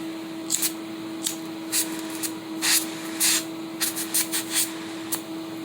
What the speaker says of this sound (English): I'm letting the gas go through.